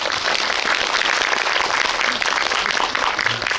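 An audience at an independent cinema's post-screening talk applauds director Cho Hyun-chul, dense, even clapping filling the room without pause from start to finish.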